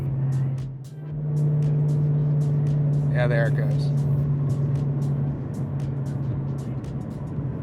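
Steady road roar and tire hum from a Ford Mustang S550 cruising a freshly paved interstate with truck traffic nearby, a constant low drone throughout, with someone speaking briefly over it.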